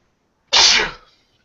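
A single loud, sharp sneeze bursts out close by and trails off quickly, standing alone with no talk around it.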